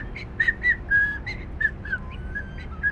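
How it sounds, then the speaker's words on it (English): A man whistles a cheerful tune while strolling along a harbor dock, the melody bright and steady, moving through short, lilting phrases of clear notes, fairly close and alone. "He was whistling a happy tune."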